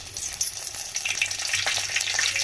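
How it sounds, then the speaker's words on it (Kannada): Curry leaves and heating oil for tempering crackle and sizzle steadily and fairly close, a dense hiss with small pops, no voices. "ಎಣ್ಣೆ ಕಾಯ್ತಿದ್ದೀನಿ ಆಮೇಲೆ ಕಡೆ ಸ್ವಲ್ಪ ಕರ್ಬೇವಿನ ಸೊಪ್ಪು ಹಾಕ್ತೀನಿ"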